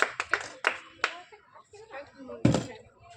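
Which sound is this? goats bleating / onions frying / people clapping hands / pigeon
people clapping hands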